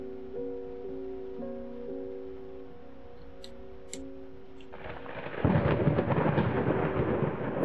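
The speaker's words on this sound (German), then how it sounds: "Oh, das sind genau Geräusche, wie ich es jetzt brauche, ne? Gemütliches Gewitter." Thunderstorm in the horror video game Layers of Fear: a steady rumble of rain swells into a loud, broad roll of thunder about two thirds through, after a quieter passage carrying a faint sustained tonal hum.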